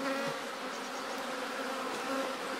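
Honeybees buzz steadily at an open hive during a Pagden artificial swarm, a dense continuous hum that is close and unbroken with no voices.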